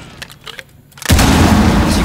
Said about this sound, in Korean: 지금처럼 이동식 방패가 파괴가 됩니다.